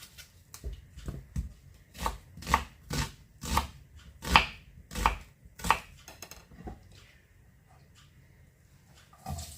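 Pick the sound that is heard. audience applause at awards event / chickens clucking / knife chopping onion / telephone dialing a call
knife chopping onion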